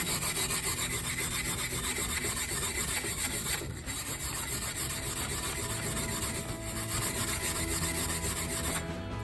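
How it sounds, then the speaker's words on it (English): Steady, harsh scratchy rubbing of steel wool scrubbing a polished alloy car wheel, continuous and close, with a brief pause midway. "we'll just have a quick clean up with the trusty steel wool"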